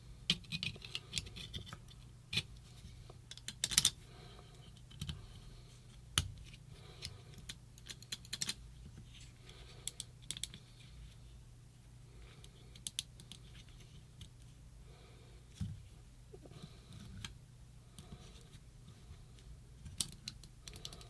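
Sparse clicks of a clicky keyboard button are pressed one at a time at irregular intervals, faint and close, over a low steady hum.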